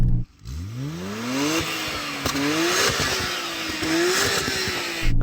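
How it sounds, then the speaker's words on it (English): A Nissan Skyline GT-R R34 fires up and revs in a series of loud rising and falling sweeps, heard nearby and alone. "R34, rev up your engine."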